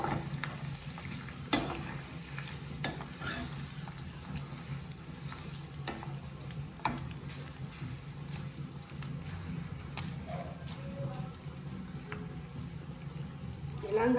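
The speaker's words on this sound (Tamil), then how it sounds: "நாங்கள் ஃபுல்லாக எண்ணெயை காய்ச்சி முடிச்சுட்டோம்" Homemade herbal hair oil bubbling in a pan over the stove, giving a continuous low crackle and simmer with scattered small pops and clicks, quiet and steady throughout, with faint voices in the background.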